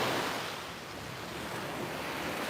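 Ocean waves wash onto a beach in a steady, broad rushing hiss, moderately faint, mixed with gusts of wind buffeting the microphone and no voices.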